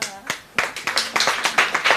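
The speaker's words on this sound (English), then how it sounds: "You guys can stand up and give yourself a round of applause." Team members at a dissemination workshop clap for themselves, a few distinct claps growing into a brisk, close group clapping with some talking mixed in.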